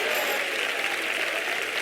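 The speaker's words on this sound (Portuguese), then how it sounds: "Uma salva de palmas para o Senhor" Church congregation clapping for the Lord during a service, a dense, even wash of applause from many hands sustained throughout, moderately loud with no clear voices on top.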